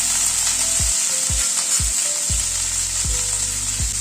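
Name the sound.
potatoes and beans frying in oil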